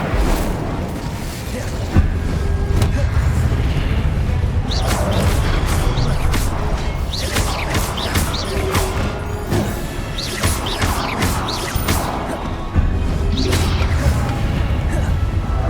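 Spell effects in Hogwarts Legacy gameplay, with the Incendio fire spell being cast, burst out as repeated whooshing blasts and crashes that fill a dense, loud stretch of combat sound.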